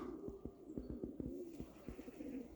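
Pigeons in a loft make soft, repeated low cooing and throaty calls, faint and somewhat distant, with a few light flutters underneath.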